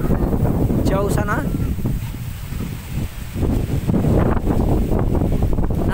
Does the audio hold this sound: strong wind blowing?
yes